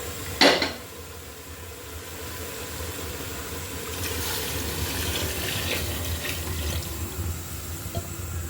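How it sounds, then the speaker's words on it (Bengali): Water pours into a pressure cooker pot of mung dal and goat head, a steady splashing stream after a sharp metallic clank, continuing fairly loud and close with a few small knocks of the pot. "অনেকগুলোই পানি দিয়ে দিলাম আমি"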